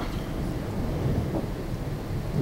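Thunder during a dangerous thunderstorm under a tornado watch, a low continuous rumble with rain and wind noise roaring steadily and no clear breaks.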